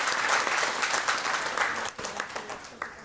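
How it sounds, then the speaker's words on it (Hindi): An audience at a Brahma Kumaris spiritual gathering claps together, a dense burst of hand claps that carries on steadily, thinning slightly near the end. "ताली बजाओ जी"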